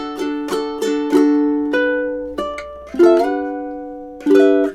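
A ukulele plays a summertime chord melody through measures one to four at a slowish pace, bright plucked chords and single notes ringing out one after another and decaying between strums, played alone with no talking.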